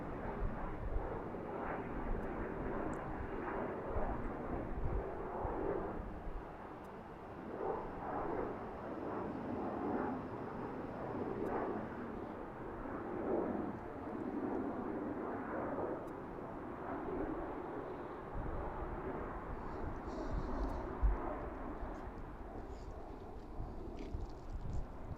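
A jet airplane climbing out after takeoff from runway 33 right at BWI airport passes overhead, a broad continuous roar that swells and stays loud, with wind buffeting the microphone.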